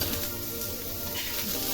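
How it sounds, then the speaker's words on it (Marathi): Chopped onion sautéing in oil in a pan for a Malvani-style soybean masala: a dense, steady sizzle that holds at an even level throughout, close and continuous. "छान असा पिंक होईपर्यंत हा कांदा आपण परतणार आहोत."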